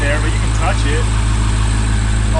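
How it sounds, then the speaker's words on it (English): A Corvette C8 Z06 fitted with equal length headers idles at close range, a loud steady low rumble with an even pulse, while people talk over it. "That's idling louder now than it was at the shop."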